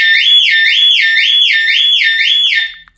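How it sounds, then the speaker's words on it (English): A 2001–2009 Volvo S60/V70 car alarm, set off by the key fob panic button inside a garage, wails loudly in a steady rising-and-falling siren of about five even cycles, then cuts off abruptly. "Maybe you want to grab the fob and press the unlock here to untrigger the alarm, but after 10 seconds it should start screaming."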